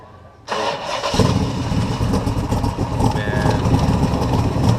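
A 427 V8 cranks and fires up at an outdoor car show, catching with a sudden loud burst and then settling into a heavy, rumbling idle close by, with people talking in the background.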